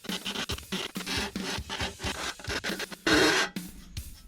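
Burrs being filed off the cracked edge of a drum cymbal, a close, steady back-and-forth rasping scrape in repeated strokes, with one longer, harsher pass near the end.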